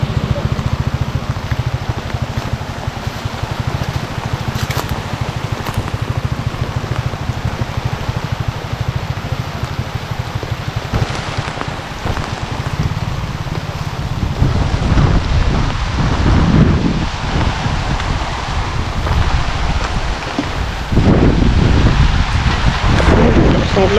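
Steady rain falls outdoors with continuous broadband hiss, wind buffeting the microphone and low rumbles suggesting thunder, with a few faint voices underneath.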